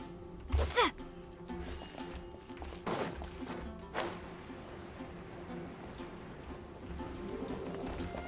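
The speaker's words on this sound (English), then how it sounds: "There's a bird on top of that." Bird calls ring out in Genshin Impact, set around Mondstadt, with a few short cooing chirps early on and again midway amid soft game ambience and footsteps.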